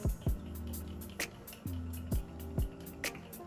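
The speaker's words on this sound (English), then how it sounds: "I then use the e.l.f. Power Grip Dewy Setting Spray" Several quick, hissing spray bursts from a pump bottle of e.l.f. Power Grip Dewy Setting Spray, close by, spaced irregularly with brief pauses between them over a low background hum.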